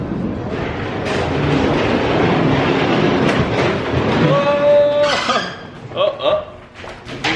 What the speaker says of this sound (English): Enjoy your murder train.